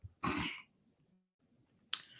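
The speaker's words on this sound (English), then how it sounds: "You've been coughing like that for the past 2 days." Two harsh coughs, one near the start and another near the end, separated by a quiet pause.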